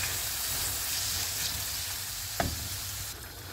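Pasta sauce sizzles steadily in a hot pan, a loud, even hiss with low bubbling, broken once by a sharp scrape of a spoon stirring against the pan.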